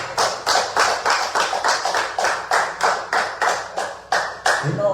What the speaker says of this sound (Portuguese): quem puder, as palmas do Senhor Jesus.